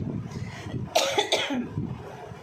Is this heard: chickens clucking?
no